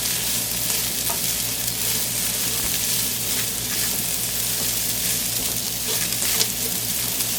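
Minced garlic and rice frying in hot oil for Mexican rice, a steady close sizzle with soft scraping as a spoon stirs through the pan, continuous and moderately loud with no voices.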